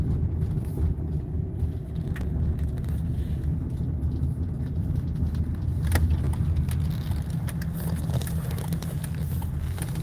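A car drives along a road, heard from inside as a continuous low engine and tyre rumble with faint rattles and no one talking.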